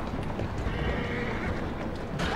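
Horse neighing and clip-clopping hooves in the Ripperologist video game, a steady dense mix of game sound with a brief whinny-like tone partway through and no talk.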